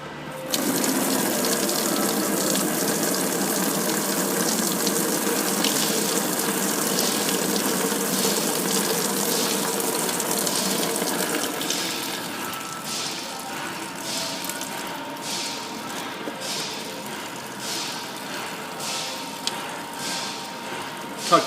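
Coolant drains from a loosened lowest hose fitting at the electric coolant pump on a Ford Escape Hybrid, a steady splashing gush of liquid that gradually thins, heard close with someone talking over it.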